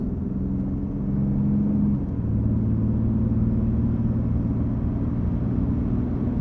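A car engine rumbling and whirring steadily as it is driven fast, with a slight shift in engine tone partway through; a continuous close interior drone with no talk.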